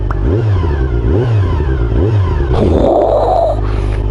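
A Honda CBR400RR 400cc sport motorcycle engine revs repeatedly in rising and falling surges, steady and close, then climbs higher in pitch with a scraping, whining edge.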